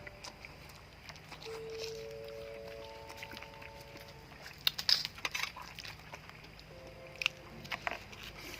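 Someone bites and chews a vegetable salad close to the microphone, with soft crunches and a few sharper crisp bites in the second half over a quiet background.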